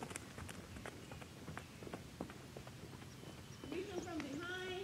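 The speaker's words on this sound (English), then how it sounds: "Look at that beautiful trot." A horse trots on the lunge line, its hooves beating a steady rhythmic clip-clop at moderate distance, with a voice speaking briefly near the end.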